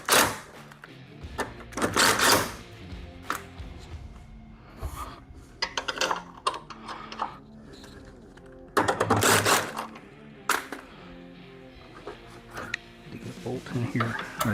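An impact wrench pulls in the door hinge bolts on a 1974 Ford Maverick in a garage, giving two short rattling hammer bursts about seven seconds apart, with people talking and clinking tool sounds in between.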